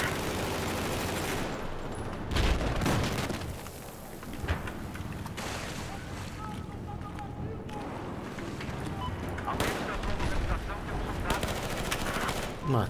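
Gunfire in the video game Battlefield 4: rapid bursts of automatic fire and sharp shots crackle through the clip, with a player talking over the steady game noise.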